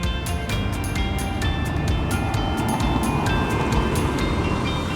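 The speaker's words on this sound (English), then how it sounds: "The exhaust is quite special too." A one-off Porsche rally car idles or runs with a raspy exhaust, a steady loud mechanical drone with regular sharp ticking pulses throughout.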